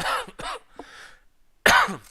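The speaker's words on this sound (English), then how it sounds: "Sorry for the cough" Several harsh coughs in quick succession, close and loud, with brief gaps and a final stronger cough after a short silence.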